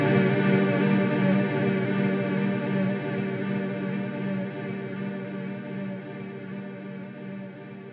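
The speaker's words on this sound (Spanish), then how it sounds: "Más a la izquierda es más opaco el reverb como tal, no el tono de la guitarra, sino el del reverb." A guitar runs through an EarthQuaker Devices Transmisser reverb pedal, giving a dense, shimmering wash of sustained tones that slowly fades, loud and alone with no talking.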